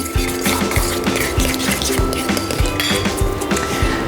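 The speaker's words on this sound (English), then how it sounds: "Whisk this all together." Whisk clinking rapidly against a bowl while mixing a cheesy Parmesan and cracked black pepper enrichment for risotto, a steady close run of metallic taps and scrapes throughout.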